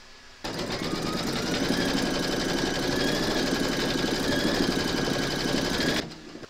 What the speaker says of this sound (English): Pop your hoop into your machine and stitch round number 3 to secure them.